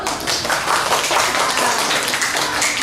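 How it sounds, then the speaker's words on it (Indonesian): A primary school class of sixth graders claps hands in a classroom, a dense, lively patter of many small hands at close range, continuous and fairly loud. "Tepuk tangan dulu"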